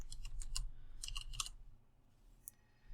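Short bursts of typing on a computer keyboard, entered into a Windows Start menu search. A quick cluster of close, crisp keystrokes is followed by a pause and one final isolated key click.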